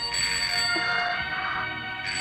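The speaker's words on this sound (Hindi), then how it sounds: "टेलीफोन की घंटी बज गई" A bright, continuous electric telephone bell rings steadily and loudly for a couple of seconds, with a brief break near the end before it resumes.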